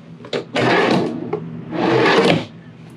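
A drawer in a 2021 Winnebago Hike 210RB travel trailer slides open and then shut nearby, two smooth rolling glides with a light knock at the start.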